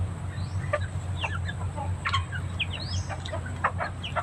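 Hens clucking and squawking in agitated bursts as they are chased and caught, several birds calling close by over a steady low hum, no talk.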